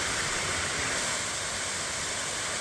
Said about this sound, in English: here's the last waterfall on this leg.